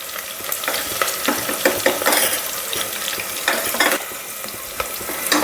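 Spices with onion and chilli fry in a pan for bagara rice, with a constant loud sizzle broken by frequent scraping and clinking of a stirring spoon, close up and without talk.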